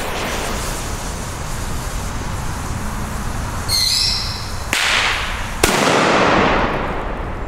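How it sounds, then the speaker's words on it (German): A Cobra 2 P1 flash-banger firecracker goes off outdoors with loud, sharp blasts: a crackling burst near four seconds, then two hard cracks, each trailing into a broad noisy wash. "Also ihr habt gehört, das war schon einer der besseren P1 Böller."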